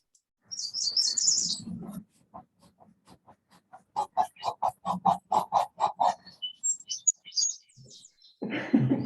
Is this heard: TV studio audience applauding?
no